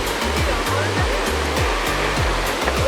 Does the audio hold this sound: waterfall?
yes